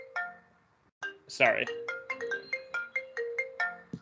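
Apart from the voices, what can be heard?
mobile phone ringtone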